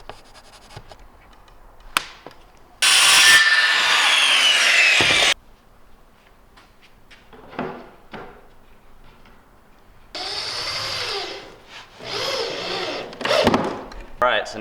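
Plywood being cut for a skateboard launch ramp (kicker): a loud power-saw burst of about two and a half seconds, then later several shorter rough cutting passes, with quieter handling noises and some talk in between.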